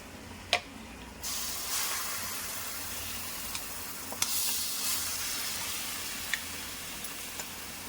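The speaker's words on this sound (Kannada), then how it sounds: "ಮಸಾಲಾನ ಹುರ್ಕೊಳ್ತಾ ಇದ್ದೀನಿ" Masala sizzling and frying in a pan while a mushroom gravy is being made, a steady close hiss with a few sharp pops and crackles, no talking.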